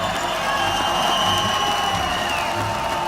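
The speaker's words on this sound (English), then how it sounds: "Listen to that crowd." Crowd noise fills a Brawl Stars esports championship arena at Brazil Game Show, a steady loud roar of cheering and whooping with scattered applause throughout.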